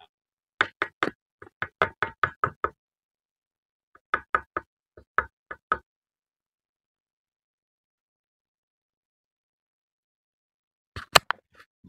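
Repeated sharp metallic knocks from a Honda Vario 150 scooter engine with a worn connecting rod, arriving in short rapid bursts of several raps separated by silence, close and clear with no talking.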